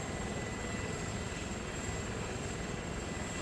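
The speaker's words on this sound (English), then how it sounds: "we'll just grab the Chinook" Chinook twin-rotor helicopter in the combat game ArmA 3, a steady, loud, continuous rotor and engine roar holding evenly throughout with no speech.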